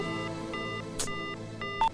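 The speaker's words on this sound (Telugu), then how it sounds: "ఏంట్రా సడన్ గా ఫోన్ కట్ చేసినావు?" A phone line emits a series of repeated electronic tones in a regular on-off pattern after a call is hung up, moderately loud, with a couple of brief clicks near the end.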